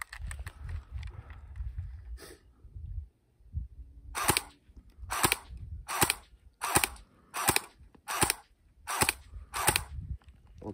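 A Cyma AK47 replica electric airsoft gun fires on semi-auto, giving about nine crisp single snaps at a steady rhythm, close and clear, after a brief stretch of low handling noise.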